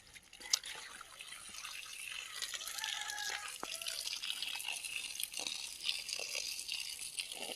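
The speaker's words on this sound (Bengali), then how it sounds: "বেশি করে করে জল দিতে হবে।" Water running and trickling onto dry garden seedlings and plants, a steady soft splashing flow with a few sharper drips, moderately quiet and continuous throughout.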